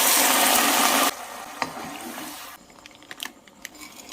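Boiling water pours noisily into a cooking pan for about a second, then quieter sizzling and a few clinks and taps of cookware follow, as frozen green peas are added for a spinach potato masala.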